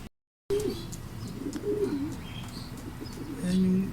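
Racing pigeons at a training loft coo softly nearby in low, rolling calls that repeat and overlap. Faint chirps and outdoor background sound sit underneath.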